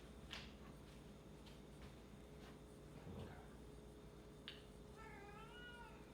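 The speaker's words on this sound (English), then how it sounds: "my cat's meowing." A house cat meows a few times, faint and somewhat distant, with the last call a drawn-out, wavering meow over a low room hum.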